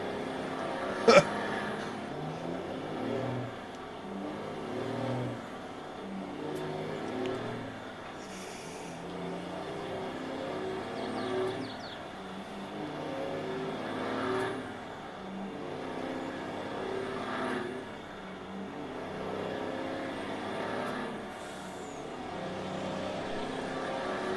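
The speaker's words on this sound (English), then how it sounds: "God, I wish this truck would go into another gear." Steady engine drone of a truck driving across a farm map set in Nowhere, Kansas, in a driving game, the engine holding a low strained pitch with small rises and falls and no gear change.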